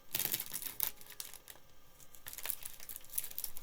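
Thin plastic parts bags from a Gundam kit crackle up close while pieces are removed, in several sharp crinkling bursts separated by brief quieter gaps.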